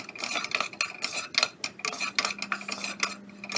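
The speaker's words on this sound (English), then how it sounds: "in the same masala add in the potatoes" Potatoes frying in spiced masala in a pan, with rapid scraping and stirring clatter from a utensil over a soft, steady sizzle, close and fairly loud.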